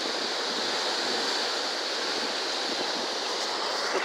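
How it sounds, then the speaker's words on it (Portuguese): A flooded river, the Rio Guaribas in Picos, rushes in full spate with a loud, steady roar of heavy water, continuous and unbroken throughout with no voices. "o Rio Gariba tá cheio de novo. Muita água."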